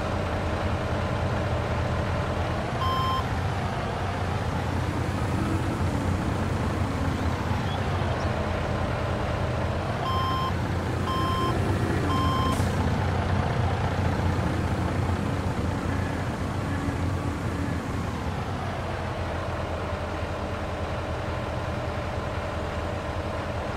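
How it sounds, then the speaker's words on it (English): A gigantic Volvo mining wheel loader in a video game drones steadily while maneuvering onto a trailer, its engine pitch rising and falling in slow swells, with short evenly spaced reversing beeps sounding in a few bursts. "We'll try and load this Volvo here up on this trailer."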